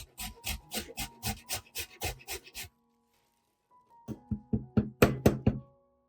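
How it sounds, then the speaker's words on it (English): Fresh lemon peel rubbed quickly against a fine grater to make zest: a fast run of rhythmic, close rasping strokes, a pause of silence, then another burst of strokes ending in louder knocks, with no talking. "I usually grate the lemon zest very finely like this"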